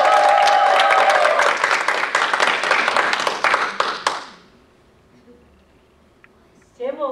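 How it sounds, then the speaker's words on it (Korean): Loud audience applause fills a church concert hall for about four seconds, then fades to near silence before a brief burst of clapping returns at the end. "자, 우리 션을 위해서 다시 한번 큰 박수"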